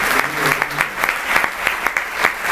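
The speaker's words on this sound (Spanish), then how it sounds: "Le vamos a dar un aplauso también al señor del pueblo." Concert crowd at a piano show in Veracruz applauds a man from the town, a thick wash of clapping punctuated by regular sharp clap accents, with a brief voice-like hum at the start.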